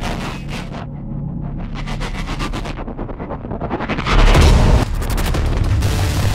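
Gunfire in the military shooter ARMA 3, with rapid bursts of automatic rifle fire crackling in rhythmic volleys, a heavy booming blast near the end, then continued sustained shooting, loud and close with no talk.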